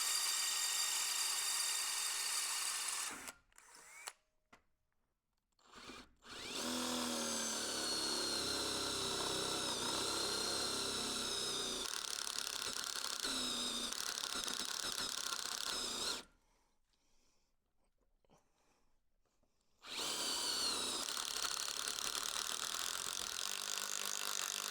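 A power drill drives a screw through 8 mm rectangular hollow steel, roughly 14 mm of metal in total, during gable end window and door installation: two sustained whirring runs broken by short pauses and a longer silent gap near the end.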